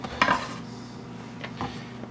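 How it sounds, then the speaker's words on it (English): A knife cuts red pepper julienne in half on a cutting board, giving two short, distinct chops with a quiet stretch of kitchen noise between them. "Then I'm gonna take that julienne and I'm just gonna cut it in half."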